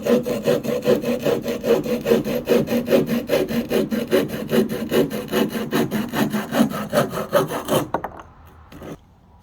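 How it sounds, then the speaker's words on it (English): A handsaw cuts through wood to make a bow-drill hearthboard and spindle, giving loud, close, rhythmic back-and-forth rasping strokes that stop abruptly near the end, leaving faint handling noise. "So I'm going to go ahead and make a cut here, and then we're going to go ahead and cut it again to get our hearthboard and spindle."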